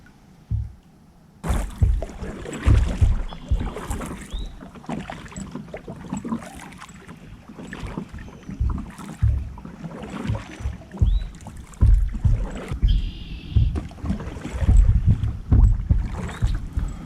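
NuCanoe Unlimited kayak paddled on open water, with irregular paddle splashes and hull knocks under gusty wind buffeting close to the microphone.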